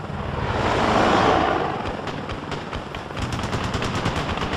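Machine gun fire in the combat flight game Ace Combat: Assault Horizon, a loud sustained roar of gunfire with rapid rattling bursts over aircraft engine noise, swelling early then continuing steadily.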